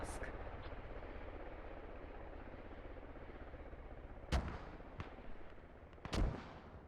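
Mortar rounds in the Squad battle game land as two sharp booming impacts and a smaller thud in the latter half, over a steady rumbling battlefield background with a voice talking throughout.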